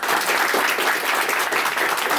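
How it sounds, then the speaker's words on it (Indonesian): Semen Padang football supporters clap in a thick, continuous burst of applause, steady and loud throughout. "Tepuk tangan dong"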